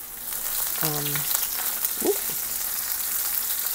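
Onions seasoned with Himalayan pink salt fry in a pan with a steady, close crackling sizzle, briefly joined by a short vocal sound early on.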